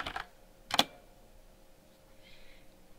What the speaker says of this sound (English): I can type moves to get a move list